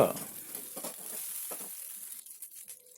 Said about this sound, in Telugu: రెండు మూడు కరివేపాకు రెబ్బలు ఒక స్పూన్ అల్లం వెల్లుల్లి వేసి వేయించాలి